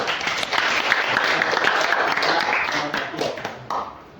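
Classroom students break into close, lively hand clapping that holds steady, then thins and tapers toward the end.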